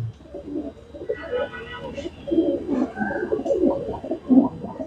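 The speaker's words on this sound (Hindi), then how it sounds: "एक मेरा ये है कबूतर जो सबसे पहले कबूतर दिखाया था उसका बच्चा भाई ये" A young pigeon, offspring of a pair brought from Punjab, coos in low repeated phrases nearby while people talk over it.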